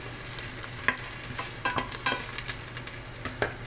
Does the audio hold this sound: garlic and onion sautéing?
yes